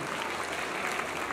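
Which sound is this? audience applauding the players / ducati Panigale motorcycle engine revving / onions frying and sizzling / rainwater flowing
audience applauding the players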